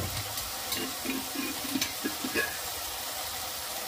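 Tomatoes frying in a pan for a kinema curry, a gentle background sizzle punctuated by a string of scraping, clinking stirs of a spoon against the pan, close and moderately quiet with no talking.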